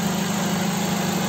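A Nissan Serena C24 engine runs steadily at idle during radiator flushing, a continuous, even drone with no breaks or talk.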